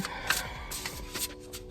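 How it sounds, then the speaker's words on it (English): Tarot cards shuffled by hand in a quiet room, a steady run of soft papery riffles and flicks with brief louder snaps, close and without speech. "we just doing some more shuffling"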